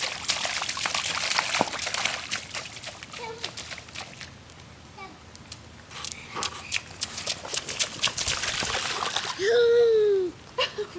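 Splashing through a muddy puddle near a creek, with broadband wet splatters and sloshes across the clip, voices mixed in, and a brief louder sweeping cry near the end.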